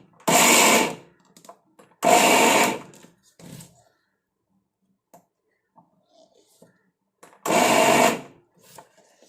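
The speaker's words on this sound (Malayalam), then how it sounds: "ഇതൊന്ന് മിക്സിയിലൊന്ന് കറക്കിയെടുക്കുക അരച്ചെടുക്കണ്ട കറക്കിയെടുത്താൽ മതി" An electric mixer grinder coarsely pulses soaked lentils for parippu vada, running in three short, loud whirring bursts separated by near-silent pauses.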